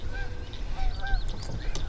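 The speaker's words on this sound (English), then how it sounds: "Now I know why hunters hunt these geese." Canada geese honking repeatedly at close range outdoors, a flock calling in overlapping, loud nasal honks over low rumbling background noise.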